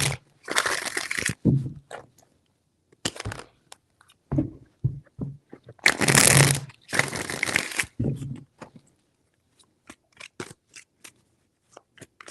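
Tarot cards are shuffled in several separate bursts of riffling and slapping, close and crisp, with quiet gaps and scattered light taps between them. A voice speaks briefly between the shuffles.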